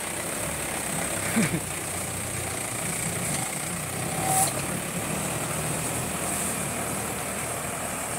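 A tractor bulldozer engine idles steadily at close range, giving a continuous low rumble with a faint vibration and no breaks.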